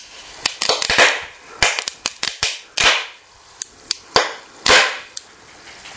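Hydrogen gas from a homemade three-cell HHO electrolysis unit ignites in a string of sharp, loud cracking bangs. The pops come irregularly and close to the mic, with brief hissing bursts between some of them and no talk.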